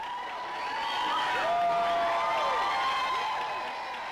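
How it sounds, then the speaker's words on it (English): Enthusiastic crowd welcoming home Korea and Vietnam veterans at Austin Bergstrom Airport, a steady wash of applause and cheering that swells in the middle, with a bright whistle-like tone sliding through. "arriving at Austin Bergstrom Airport, an enthusiastic crowd welcomed the vets"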